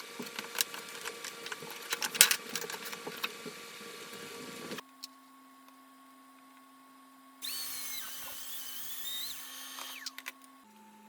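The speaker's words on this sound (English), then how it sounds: "After drilling all the dowel holes" A drill bores dowel holes in wood for a dog gate: a few seconds of busy, rattling drilling up close, then quieter steady whining tones from the tool with short bursts and pauses.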